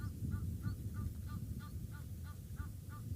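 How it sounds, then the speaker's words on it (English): Egyptian geese at a safari sunset call outdoors in a steady series of nasal honks, about ten evenly spaced calls over a low rumbling background, moderately distant and fairly faint. "Now I can hear some Egyptian geese calling out here."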